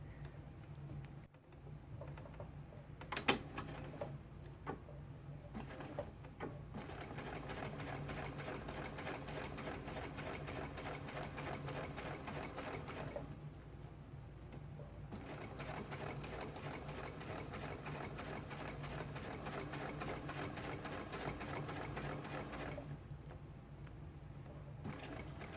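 A sewing machine stitching right along the edge of quilt sashing with a stitch width of 3 runs as a steady, close mechanical whir with short pauses and a single sharp click near the start, quiet overall and without talk.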